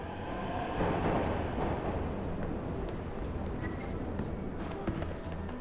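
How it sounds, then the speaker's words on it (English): Rumbling train at a station in the video game Discovery: Liberated, a dense, steady roar that goes on without a break, with faint clatter and knocks on top. "Objective: reach your train before it departs."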